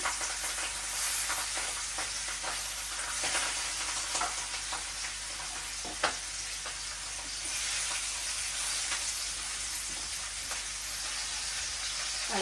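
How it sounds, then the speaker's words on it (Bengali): Rohu fish frying in oil, a steady crackling sizzle throughout with scattered louder pops and occasional stirring sounds, quiet and close with no talking. "এখন আমি মাছটি আগে ভেজে নিব সুন্দর করে লাল করে দিচ্ছি"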